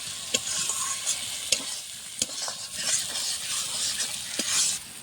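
Spice masala sautéed in oil for a rui fish curry with potato, a winter Bengali dish: a steady close sizzle of frying with repeated scraping stirs and light knocks of a spoon against the pan, no voices.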